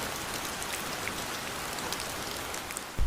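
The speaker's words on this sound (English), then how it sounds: "It's 8 a.m. and it's raining quite heavily, and it looks like rain all day." Heavy rain falls steadily during a mountain trek near Mont Blanc, a dense close hiss of drops on surfaces, with a brief louder patter at the very end and no talk.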